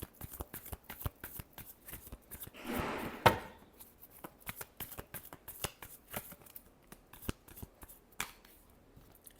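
Tarot cards being shuffled in a quick burst of dense riffling that swells and then snaps off, set among many sharp clicks and taps of cards handled on a surface, close and fairly quiet.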